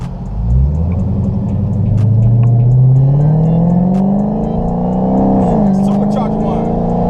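Supercharged 6.2-liter V8 Hemi in a Dodge Charger SRT Hellcat revving hard, a loud, steady rising engine roar that climbs in pitch, dips briefly and pulls again, close by for about seven seconds.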